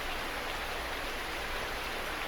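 Rain pours outside in a roleplay audio drama, heard as an unbroken, fairly loud broadband hiss that stays level throughout with no talking over it.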